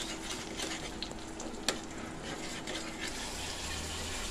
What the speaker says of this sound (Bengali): এবারে এটা একটু কষানো হোক।